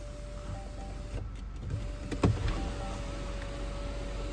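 The tilt-and-slide panoramic roof of a 2019 Range Rover P400e Autobiography LWB opens with a steady electric motor whine and a brief mechanical clunk partway through, heard close up inside the cabin.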